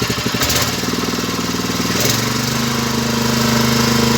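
The gasoline engine on a cheap welder generator runs steadily close by, a loud, rough, continuous drone with a slight shift in pitch partway through.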